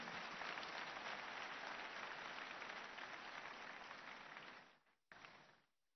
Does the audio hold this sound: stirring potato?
no